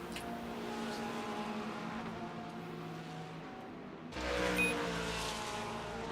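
Race cars in a DTM racing video game at Autodrom Most, engines droning steadily as several cars pass, with a louder car sweeping close near the end.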